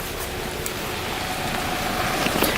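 Rain falls steadily on trees at a campsite, a dense, even patter with scattered nearby drops that grows slightly louder toward the end.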